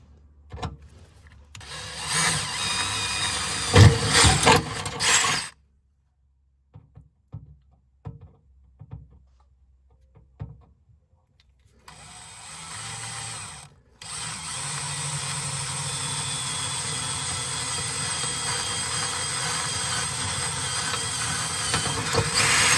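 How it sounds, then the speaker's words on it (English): A power drill whines into car body metal of a Hyundai Genesis Coupe in two long runs, separated by a stretch of near silence broken by short clicks and taps. "now I'm ready to go back to drilling."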